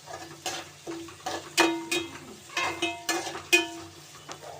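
Onions and curry leaves sauté in a pan as a spatula stirs in a repeated rhythm of short scraping strokes, each followed by a brief sizzle, fairly close and without talk.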